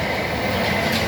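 A Class 450 electric train passing through Raynes Park station, a loud, steady rumbling roar of wheels and carriages heard up close for the whole moment.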